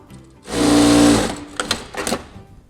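A JACK 5559G single-needle computerized sewing machine runs in one loud, steady whir for about a second, then gives several short mechanical clicks and thumps as it stops, close to the listener.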